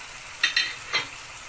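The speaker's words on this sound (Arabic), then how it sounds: "نقلب القراصية والمكسرات او التين والمشمشية مع بعض" Prunes and nuts stirred in a tagine for Moroccan beef with prunes, three quick scraping strokes over a faint background hiss, no talking.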